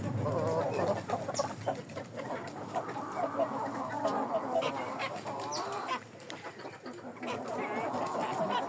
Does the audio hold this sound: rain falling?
no